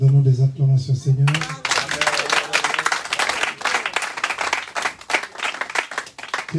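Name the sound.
congregation applauding in church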